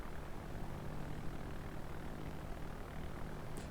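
A constant drone of aircraft engines from planes in a naval combat video game, a dense, steady roar with no breaks and no voices.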